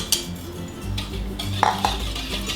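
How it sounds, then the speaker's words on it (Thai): A spoon stirs fresh milk and sugar in a pot, scraping and clinking against the metal in a few close strokes with a couple of sharper taps. "ใส่น้ำตาลทรายนะคะ ลงไปค่ะ คนค่ะ"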